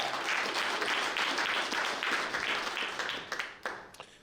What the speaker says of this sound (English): All right, everybody, a round of applause for Evan Phoenix.